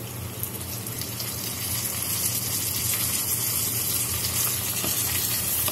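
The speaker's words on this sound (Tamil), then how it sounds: "இன்னும் நல்லா வதங்கட்டும்." Onions sautéing in a pan for Kerala-style chicken roast, a steady, loud, close sizzle and crackle of frying that holds evenly throughout with no talking.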